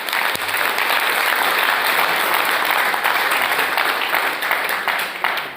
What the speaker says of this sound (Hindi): एक बार 10 तालियां बजनी चाहिए मंजीत सर के लिए।